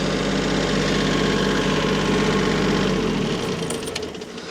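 Tractor engine idling nearby on a farm during brush-pile work, a steady loud diesel rumble with a regular knock that drops off and fades toward the end, no talk.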